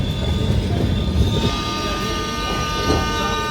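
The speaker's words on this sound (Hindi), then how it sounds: "यानी अहमदाबाद से ट्रेन आ रही है ये।" Train of the MGR Chennai Central–Ahmedabad service approaching, a loud continuous rumble of wheels and carriages with tonal whine, heard from close by on board another train.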